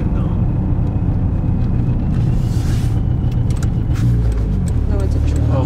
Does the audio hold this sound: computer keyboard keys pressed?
no